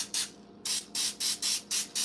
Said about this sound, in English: So we're taking Pam baking spray